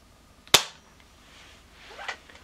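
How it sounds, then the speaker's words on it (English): A single sharp crack from a Diana Mod 6 air rifle firing an RWS Super Point pellet, loud and close, followed by quiet room tone and a faint later rustle. "And now our fifth shot with the RWS Super Point."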